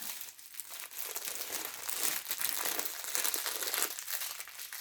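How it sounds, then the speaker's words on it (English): A crinkly plastic packaging bag is handled up close, steady crisp crackling and rustling that carries on through the whole few seconds without any talking. "Get the crinkly, crinkle sound."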